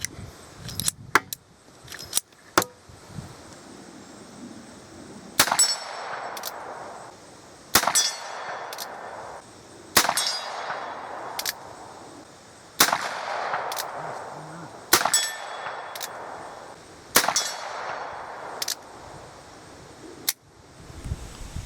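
Charles Daly 1873 single action revolver firing at a range, about eight sharp, loud shots spaced a couple of seconds apart, each trailing off with a brief ring, plus a few quick clicks at the start.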